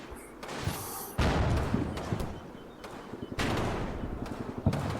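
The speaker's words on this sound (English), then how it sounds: "I've got machine gun fire coming now to pin them so they can't escape" Sustained bursts of machine gun fire in a war video game, with rapid crackling volleys and heavier booms, loud and dense throughout with brief pauses between salvos.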